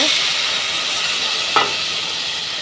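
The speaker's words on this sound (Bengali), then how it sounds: "এখন আমি এতে মশলাগুলো দিয়ে দেব" Spices sizzle in hot oil over softened onions for a steady, close frying hiss, with one brief clatter of the spices going in partway through.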